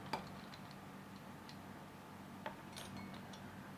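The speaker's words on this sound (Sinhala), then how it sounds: "මේ විදිහට අපි අයිස් ටී දාගෙන පොඩක් අපි මේක කලවම් කරලා" A spoon stirs iced tea in a glass, giving faint, sparse ticks and clinks of metal against glass amid quiet background hiss, with two sharper taps standing out.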